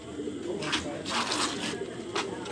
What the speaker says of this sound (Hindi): कबूतर आए हैं जी